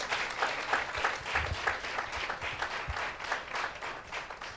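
A church congregation claps loudly together in praise of God, a dense sustained round of applause filling the room evenly from start to finish.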